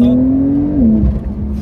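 Porsche 992 Carrera 4S flat-six at full throttle on an open road, a loud, close, sustained engine drone that climbs in pitch, then drops briefly as it shifts, with no talking.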